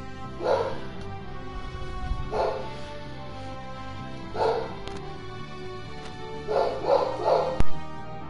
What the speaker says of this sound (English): You hear my dog in the background. She barks.